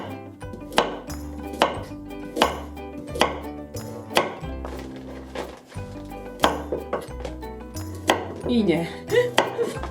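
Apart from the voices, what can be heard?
knife chopping carrots into chunks on a cutting board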